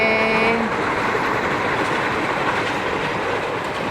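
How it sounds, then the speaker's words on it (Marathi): A train rumbles past close by on tracks overhead in a loud, continuous roar, a brief horn-like tone fading at the start. "वरून ट्रेन चालले"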